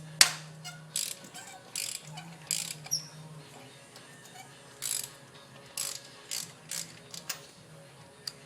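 A socket ratchet clicks in short, repeated bursts while a plug is loosened on a 2005 Toyota Tundra with the 4.7L engine. The ratcheting is close and crisp, with brief pauses between strokes and no talking.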